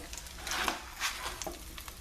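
Panko-coated chicken legs fry in hot grease, a quiet close sizzle rising and falling in soft bursts with faint bubbling crackle.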